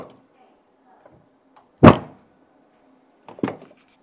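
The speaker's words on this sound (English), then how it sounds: "I'm going to use the car door because it's a lot more solid than a boot generally" Two solid car door slams, a loud thump early on and a second, slightly softer one a moment later, with faint background noise between.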